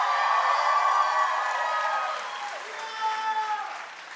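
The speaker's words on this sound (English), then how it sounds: "Can we get another round of applause for Classical Fusion?" Audience applause and cheering after a dance performance at an evening event, dense clapping with whoops from the crowd that gradually thins out.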